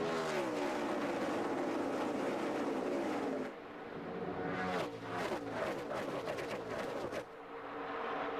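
A NASCAR field roars away at the start of the 2012 Pure Michigan 400 at Michigan International Speedway, a loud, dense engine drone with cars rising in pitch and sweeping past in quick succession.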